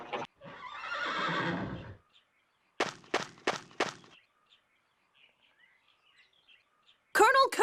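A horse whinnies in a long, loud neigh as a wagon stops in the Tales of the Abyss video game, followed by a quick run of snorting bursts, with a voice at the end.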